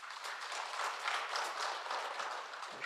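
Brief applause from the audience of an education forum panel on edtech-based future learning, a moderate burst of scattered clapping in a hall, fairly quiet and short.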